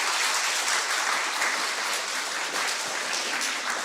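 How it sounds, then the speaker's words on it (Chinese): A church congregation at a Sunday service claps for the children, a dense, steady round of applause that carries on for a few seconds and fills the room. "咱来甲遮囡仔拍拍手好无？"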